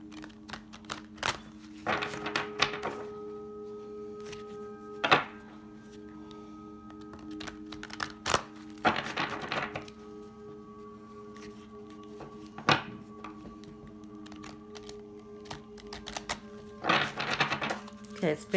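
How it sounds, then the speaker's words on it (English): Soft riffling and tapping of cards being shuffled in short bursts, with quiet pauses between and a faint steady hum underneath. "Let's shuffle the cards."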